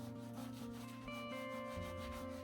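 A tool rubs steadily over netting laid on wet wool felt fibres for a seascape, a continuous soft scrubbing close up beneath a tonal musical background.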